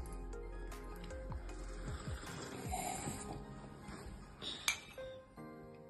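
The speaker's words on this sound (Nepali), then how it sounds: "फेरि चियर्स गर्छु" Glasses clink together in a toast in Ghandruk village, Nepal. A few light, faint clinks rise over a quiet background, with one sharper chime near the end.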